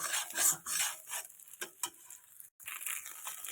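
Eggs being flipped and broken up in a wok with a spatula: scraping, clattering metal strokes in irregular bursts over a faint sizzle, with a brief pause before the stirring resumes.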